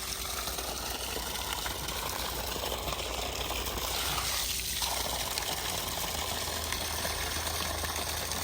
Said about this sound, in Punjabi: ਪਾਣੀ ਦੇਖੋ ਕੰਨਾ ਭਾਜੀ ਪਾਣੀ ਤਾਂ ਸਹੀ ਆ ਪ੍ਰੈਸ਼ਰ